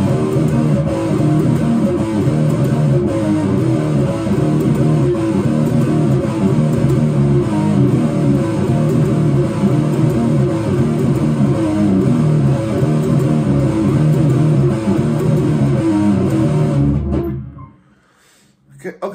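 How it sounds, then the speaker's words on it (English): Distorted electric guitar tuned a whole step down plays fast power-chord riffs from the intro of a song, loud, dense and continuous, ending abruptly near the end. "So we're going to get started with the introduction riff,"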